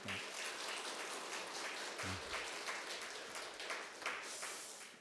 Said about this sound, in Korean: 하나님께 감사의 박수를 한번 올려드리면 어떨까